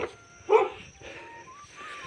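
A dog barks once at middle distance, a single short yelp-like bark followed by faint whimpering tones over a steady background hum.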